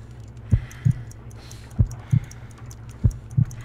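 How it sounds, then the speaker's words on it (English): Heartbeat heard during a pulse check in Sherlock Holmes: Crimes and Punishments, slow paired lub-dub thumps repeating three times, low and distinct over quiet background hiss, with no talking. "I need to concentrate and count the heartbeats."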